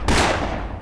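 A single gunshot in the game Afterfall Insanity: a sharp, loud, close blast with a broad burst of noise that decays quickly, alone without speech.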